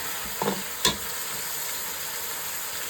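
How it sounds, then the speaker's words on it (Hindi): Beef trotters frying with ginger, garlic and onion in a home kitchen for Lahori bong paye, a soft steady sizzle with a couple of brief stirring clatters near the start. "इसको अच्छी तरीके से भूनना है अदरक लहसुन में और प्याज में"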